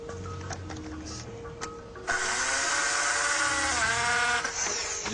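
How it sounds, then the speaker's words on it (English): A power drill is pressed against a man's body, whining steadily at high pitch for several seconds after some faint clicks and taps. "The drill seems real"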